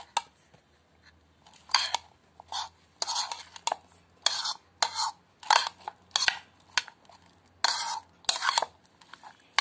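A keto salad is tossed with spices in a bowl, producing repeated short bursts of utensil scraping and clattering in an uneven rhythm, close and fairly loud, with quiet pauses between strokes.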